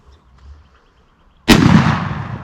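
A single loud shotgun blast fired at a wild turkey on a Nebraska hunt. A quiet outdoor pause gives way to the sharp report, which echoes and fades away.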